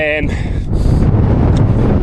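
Gusty wind buffets the microphone on an exposed Yorkshire mountain trail, a heavy low rumble that stays loud throughout while someone talks briefly at the start.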